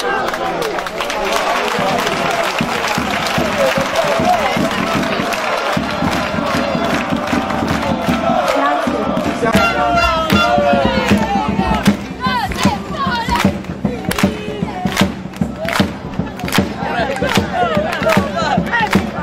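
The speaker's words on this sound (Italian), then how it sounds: "una serata straordinaria, un tifo, quando dice da stadio, veramente da stadio, grande entusiasmo" A large crowd of football fans cheers with stadium-like fervour at the official presentation of Casertana's new squad, sustained roaring and chanting with rhythmic claps and bursts of shouting, voices mixed in.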